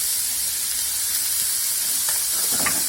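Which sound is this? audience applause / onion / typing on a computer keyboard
onion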